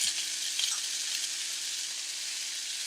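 Salmon with minced garlic sautés in a hot pan, giving a steady, close sizzle with a bright hiss. Now and then a soft stir or shuffle is heard, and nobody speaks.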